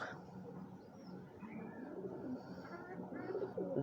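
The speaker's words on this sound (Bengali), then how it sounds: "আজকে আমার এই কবুতরটা দেখাবো এই দেখেন ওর পাক কেটে দিয়েছি" Soft, low cooing from a black-necked pigeon close by, repeated throbbing calls growing a little louder toward the end, over quiet background noise.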